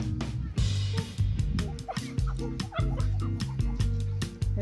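An excitable dog on a park nature walk barks and whimpers in quick repeated bursts close by, yelping and whining after spotting a rabbit, with steady background noise throughout.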